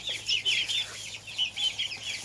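Several chickens cluck in a steady, overlapping chatter close by in a village poultry yard, with no one talking.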